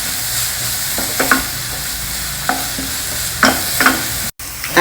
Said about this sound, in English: fry it lightly.